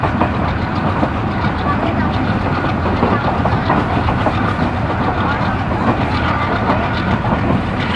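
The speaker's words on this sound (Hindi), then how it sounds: "सामने से एक अदर ट्रेन आ रही है" An oncoming train roars past on the line in Sindh, Pakistan, heard from aboard a passenger train: a loud, steady rumble with rapid clickety-clack of wheels that holds throughout.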